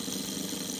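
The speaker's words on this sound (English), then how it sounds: "I'm not sure if you can hear me under the sound of this motor" Stirling engine motor running off a temperature gradient, a steady mid-pitched mechanical drone with a faint rhythmic pulse, continuous and close throughout.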